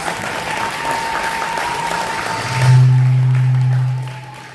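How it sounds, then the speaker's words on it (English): Spectators applaud two boxers at a Florida amateur pee-wee boxing event, a steady wash of crowd clapping that carries on, then a loud low buzzer-like tone sounds before the applause fades out. "let's give both boxers a big round of applause"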